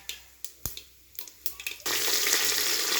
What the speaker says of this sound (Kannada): ಈರುಳ್ಳಿ ಈಗ ಬ್ರೌನ್ ಕಲರ್ ಥರ ಫ್ರೈ ಮಾಡ್ಕೊಳ್ಳೋಣ